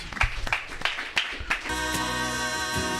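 Audience applause for Charles on a recovery radio show, a short burst of clapping before steady music takes over.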